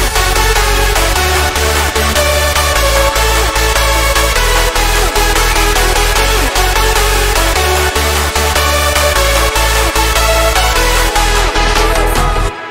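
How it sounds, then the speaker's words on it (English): Dense hardstyle remix of a track plays loud throughout, with a pounding kick, heavy layered lead and thick synths in a steady driving beat, cutting off at the end. "now I just had to find the right sounds to make a cool hardstyle remix,"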